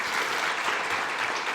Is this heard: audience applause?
yes